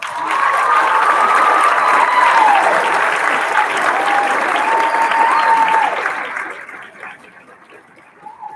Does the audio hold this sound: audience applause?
yes